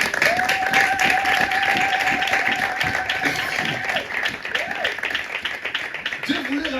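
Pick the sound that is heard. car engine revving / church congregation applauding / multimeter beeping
church congregation applauding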